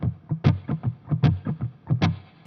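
Muted electric guitar strings struck percussively in a rhythm, a run of short choked thumps with sharper scratchy accents every beat or so, through a distorted effects sound, played alone.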